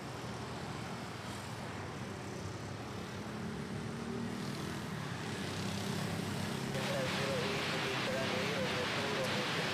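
A Philippine Airlines airliner being pushed back at Manila Airport, a faint, distant engine drone against low airport ambience that swells a little toward the end, with a voice in the background.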